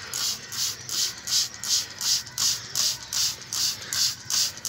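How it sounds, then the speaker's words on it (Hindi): Water spritzes from a hand spray bottle onto an aloe vera plant in a steady run of about ten quick, hissing bursts, evenly spaced and close, with no talking. "ये मेरे पास शावर है और इसे मैं ना अब शावर करवाऊंगा"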